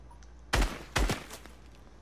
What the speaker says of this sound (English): Look at him shooting everything, bro.